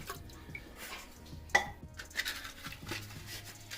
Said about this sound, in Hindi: तो कश्मीरी चाय बनाने के लिए मैं ये पानी डाल लूँगा इस पैन में।